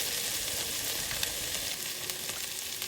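Vegetables frying in a pan, a steady dense sizzle with faint stirring clicks, close and continuous without any talk.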